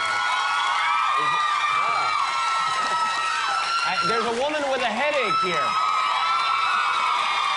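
Studio audience on a late-night talk show cheering and whooping loudly throughout, with a surge of shouts in the middle, under continuous talk from the host and guest.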